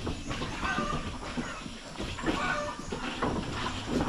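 Goats with small young kids on a farm give a few short bleats against a rough, noisy background. The calls sound moderately close but not loud.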